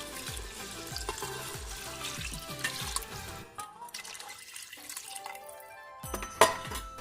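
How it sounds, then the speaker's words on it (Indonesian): Water splashes and pours into a pot of frying rice over ongoing stirring scrapes, briefly quieting before a final clatter and rush of liquid. "Lalu kita tambah air."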